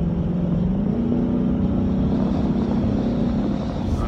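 A 2015 Ford Mustang GT with a base automatic transmission, its engine droning steadily under light throttle, a low continuous hum with a slight pitch rise, heard from inside the car.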